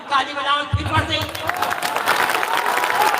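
Applause from the crowd at a live mushaira evening in Bhadohi, loose clapping rising after a voice and continuing steadily as a dense patter with background chatter.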